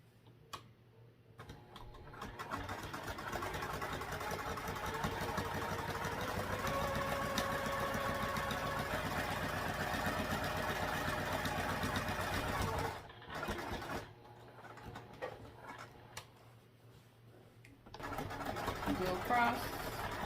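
A home sewing machine stitches in bursts: a long steady whirring run, a brief pause, then shorter runs as it goes across and back stitches, quiet and close.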